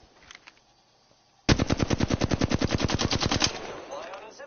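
Automatic weapon fire in the battle royale game Apex Legends, one loud sustained burst of rapid evenly spaced shots lasting about two seconds and ending in a brief decaying tail, with no talk over it.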